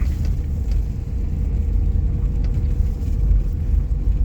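Car driving on a slippery, muddy road, a steady loud low rumble of engine and tyres from inside the cabin, continuous with no talk.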